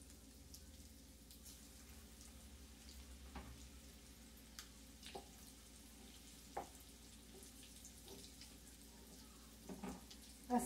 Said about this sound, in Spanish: Así voy a seguir friendo